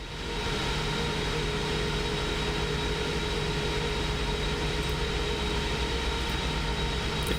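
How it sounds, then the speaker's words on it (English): Steady, dense engine roar inside a PMDG 777 airliner in Microsoft Flight Simulator 2024 as the flaps extend, a constant loud whooshing drone with faint tonal hums and no break throughout. "flaps are still dropping"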